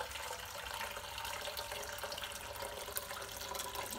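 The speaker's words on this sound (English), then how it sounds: "So use hot water if you can. I just pour that in there." Pre-boiled hot water pours into a Pressure King Pro pressure cooker ahead of cooking a leg of lamb, a continuous close splashing and gurgling stream with no voices.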